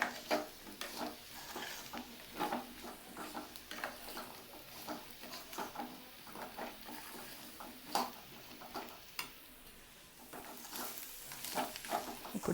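Prawns sizzling in a hot pan with garam masala while a spoon stirs and scrapes them, soft steady frying with irregular clicks and scrapes, no voices.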